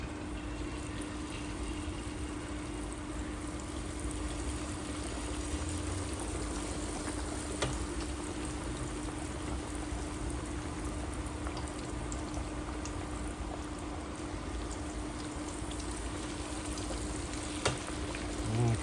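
Breaded chicken pieces frying in hot oil, a steady, even sizzle and bubbling that holds throughout with a few faint clicks, no voices over it.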